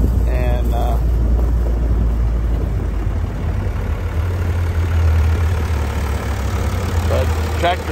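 A tractor engine idles steadily in a hay field, a low continuous rumble nearby, while someone talks over it.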